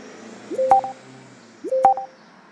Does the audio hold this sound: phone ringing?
yes